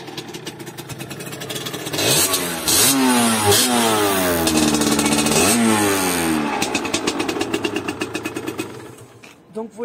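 A Beta Track limited edition motorcycle with a stock exhaust starts up close by, then revs hard several times in rising and falling sweeps before dropping back to a fast, steady popping idle.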